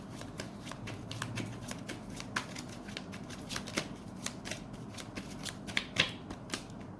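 Tarot cards being shuffled by hand during a reading, a steady run of soft riffling and light slaps with sharper card snaps near the end, close and quiet, with no talk.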